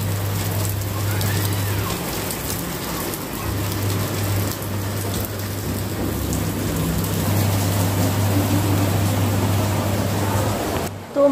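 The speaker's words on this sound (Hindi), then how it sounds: "बहुत तेज़ बारिश हो रही है।" Steady, heavy rain hisses and patters continuously throughout, with a low hum underneath and no voices.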